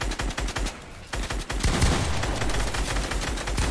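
Rapid automatic gunfire in a video game, dense bursts of shots rattling almost continuously and loudly, layered over background game noise with no speech.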